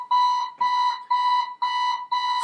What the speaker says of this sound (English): First of all was the audible alarm, so the manager of the control system is instantly alerted